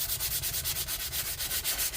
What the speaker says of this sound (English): sand a V, open the crack right up and sand a V in